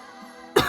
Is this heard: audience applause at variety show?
no